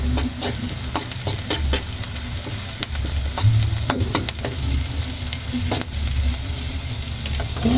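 Ginger sautéing in a hot pan for a Filipino sarsiadong bangus dish, a steady close sizzle with repeated stirring clinks and scrapes throughout.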